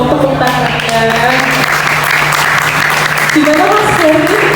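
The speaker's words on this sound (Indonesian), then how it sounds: "Boleh dong tepuk tangannya." An audience at a film discussion event claps while voices talk over it, the applause a dense wash under speech, with a steady hum beneath.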